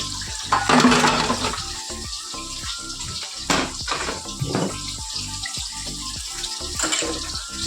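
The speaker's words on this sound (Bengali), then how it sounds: "তার জন্য কলটা খুলে ওদিকে রেখে দিয়েছি" Water gushing from an open tap onto dishes at a sink, a close, continuous splashing rush with irregular clatters and bursts, heard alone.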